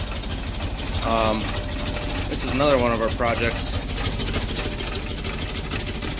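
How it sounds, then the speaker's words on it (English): A tractor engine idles with a knock and steady vibration throughout, while someone talks over it at close range. "Kinda sounds like it's got some kind of knock in it."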